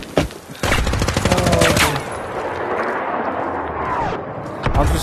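Dense, loud gunfire and explosions fill a VR shooter match in Zero Caliber 2, with rapid overlapping shots and a booming blast that roars on under a player's voice.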